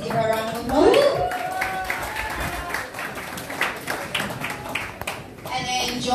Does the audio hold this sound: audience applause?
yes